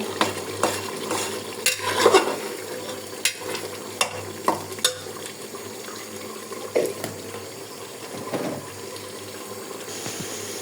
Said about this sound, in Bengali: দেখেন মাংসটা পুরোপুরি কষানো হয়ে গেছে, তেলটা বেশি উঠেছে